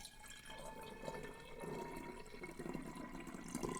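Pineapple and ginger juice is poured into a bottle for kombucha second fermentation, a quiet liquid gurgle and splash that swells slightly as the pour continues.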